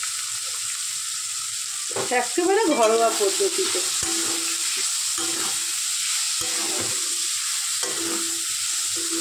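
Steady sizzling of onions and green chillies frying in a pan, with brief stirring clatter and a voice speaking briefly near the start.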